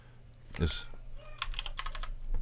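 Computer keyboard typing in a few quick clustered keystrokes, close and fairly quiet, over a low steady hum with a brief voice-like sound near the start.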